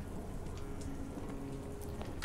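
Rain falling outdoors at night, a steady soft hiss with scattered drop patters throughout the short stretch.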